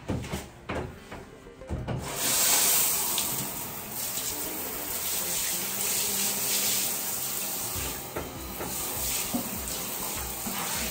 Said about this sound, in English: I'm gonna rinse out the shower.